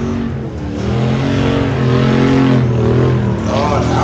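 An off-road Jeep pickup truck at a pro-class tuff truck rally race roars loudly and revs, its engine note rising and falling continuously, close and dominant.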